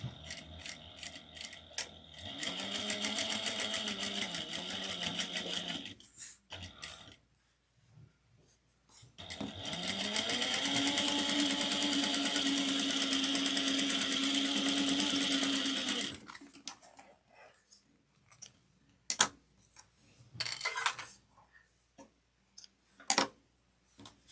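A sewing machine stitches a handbag seam with backstitching at the start and end, in two sustained whirring runs of several seconds each, separated by pauses and followed by scattered mechanical clicks and taps.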